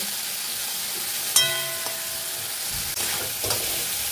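Prawns fry in oil in a wok with a steady, close sizzle, broken by a few sharp clinks and stirring scrapes; no one speaks.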